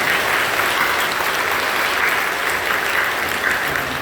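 A church congregation claps together in a dense, steady burst of applause that fills the sanctuary, loud and sustained for several seconds with no other sound on top.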